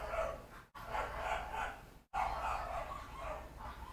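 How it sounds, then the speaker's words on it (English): Dogs battle in the video game Peglin with repeated growling, barking game sounds, one continuous scuffle interrupted by two brief silent cuts. "Those dogs are battling out there."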